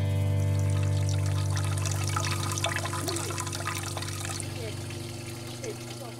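Liquid from grain mash squeezed in a hydraulic press while making jocheong syrup: a continuous trickling, dribbling flow over a low, steady mechanical hum that fades slightly toward the end.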